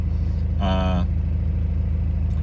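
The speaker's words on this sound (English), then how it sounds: "So I'm just going to give it a little bit of gas and you'll see that happen." A car engine idles with a steady low rumble, then briefly rises in a short rev from a light touch of gas before settling back to idle, close and loud.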